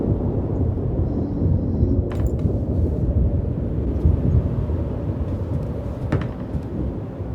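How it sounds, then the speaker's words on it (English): A long, steady rumble of thunder rolls on without a break in the dark horror game Darkness Within 2, loud and low, with a few faint clicks over it. "Is that supposed to be lightning or something?"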